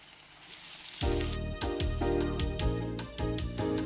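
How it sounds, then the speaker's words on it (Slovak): Egg-coated food fries in a hot pan until golden, a loud close sizzle that swells after a quieter start and crackles continuously with rhythmic stirring or turning noises. "potom to otočíme a vysmažíme pekne do zlatova"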